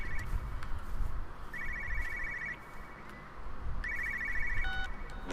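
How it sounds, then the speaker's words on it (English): A telephone rings in the video game Everybody's Gone to the Rapture, sounding in two-part bursts of electronic trilling over a low ambient rumble, fairly clear and moderately near. "I hear a phone."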